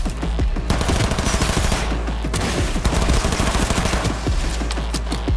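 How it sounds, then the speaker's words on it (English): Heavy gunfire during a heist in Cyberpunk 2077, dense overlapping bursts and rapid shots loud and close over a busy mix of game sound, without any talking. "Who's Jack even shooting at?"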